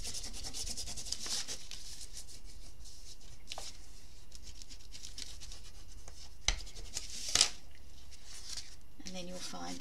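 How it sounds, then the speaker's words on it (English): Folded paper for a small handbag is rubbed and burnished flat, giving a steady soft rubbing and brushing texture with a few louder crinkles and taps near the end, close and quiet. "we're just going to fold it over flat and give it some burnishing"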